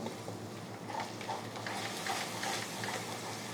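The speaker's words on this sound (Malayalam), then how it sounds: "ഒന്ന് ഇളക്കി കൊടുക്കുക" A spoon stirs a peas curry in a sizzling pan, with soft, uneven scraping strokes over a steady frying hiss.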